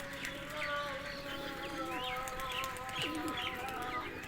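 Domestic pigeons coo softly in a loft, low repeated murmurs layered with chirps and other bird calls, while voices talk intermittently nearby.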